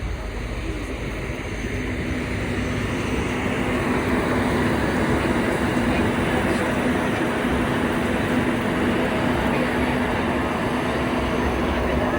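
A steady, close rumble of a tram slowing to a stop at Space Center Houston, with a low continuous hum throughout and no voices.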